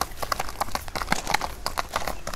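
Hooves of a horse clip-clop in a quick steady rhythm as the animal is shown off at a horse showing in Bazar-Korgon, fairly close and clear with little talk.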